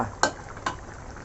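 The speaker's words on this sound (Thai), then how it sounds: "เราจะคนเล็กน้อยนะครับเพื่อให้ เครื่องมันเข้าไปถึงเนื้อ" A spicy stir-fried catfish curry stirred in a pan: two short scraping strokes of a utensil over a steady, soft sizzle, close by.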